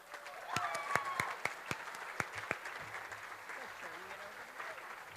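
Audience at a ballroom dance showcase applauding the volunteer emcees, a scattering of distinct claps early on that thin out, with voices talking in the background.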